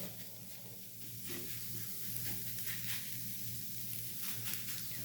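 Bitter gourd pieces fry in about a tablespoon of oil, producing a faint, steady sizzle with scattered light crackles and pops.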